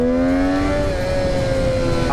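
A Triumph Street Triple RS motorcycle engine runs loud and close, a steady tonal whine that dips and then levels off into a sustained hum.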